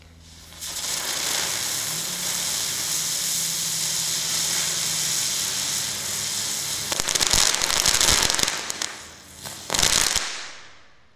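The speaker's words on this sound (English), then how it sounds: "Number five on our list tonight is a spinner. It's Crackling Ground Bloom." Crackling Ground Bloom firework spinner, a consumer ground spinner, hisses and fizzes steadily for several seconds, then bursts into loud dense crackling and sputtering before dying away.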